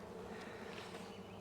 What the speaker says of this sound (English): there are some bees on it starting to draw a little bit